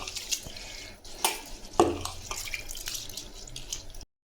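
Soaked jeera samba rice is swished and rinsed in water by hand in a kitchen, a close, continuous wet sloshing and trickling broken by a few sharper splashes and clinks of the vessel.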